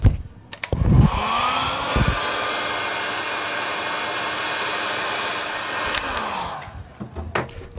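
A heat gun blows steadily while warming a front wheel hub for a bearing replacement on a military vehicle, a loud continuous whooshing roar after a few clunks, ending with more handling knocks.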